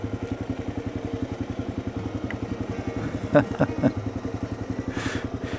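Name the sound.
KLR650 motorcycle engine idling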